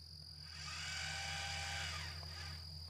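A small telescope mount motor whirs steadily at close range, a thin high buzzing drone with a faint low hum underneath, swelling slightly and then easing, with no talk.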